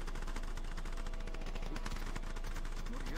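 Rapid, continuous gunfire from a squad training drill, with dense overlapping shots forming a steady, unbroken barrage throughout.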